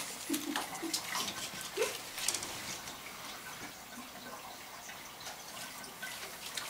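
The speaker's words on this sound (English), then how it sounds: "Oh, I'm getting splashed." Water splashes and drips near a lake or pond shore where fish are being watched, with light irregular splashing and a few faint voice-like sounds over a steady watery background.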